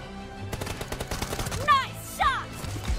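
Rapid gunfire in the mobile shooter PUBG Mobile during a team deathmatch, a quick burst of sharp, evenly spaced shots followed by a couple of louder impacts, with a voice chattering underneath.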